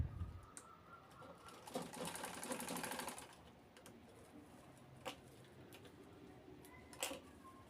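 A sewing machine stitching along the side of a cloth shopping bag in a steady whirring run of about two seconds, followed by quieter moments with faint birds cooing nearby.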